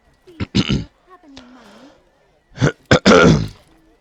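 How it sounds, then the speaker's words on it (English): Someone clears their throat several times in short, rough bursts, close and fairly loud, with a gravelly grunt between them. "Whilst I'm trying to clear my throat"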